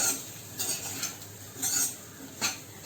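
Samosa filling being mixed with garam masala and coriander powder, a spoon scraping a pan in several short, rhythmic strokes with a faint background hiss, close and moderately quiet, with no talking.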